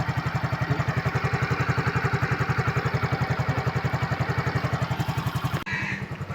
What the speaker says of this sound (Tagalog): So kailangan sa kickstart muna ninyo paanda rin, para pagka uminit yung makina at karburador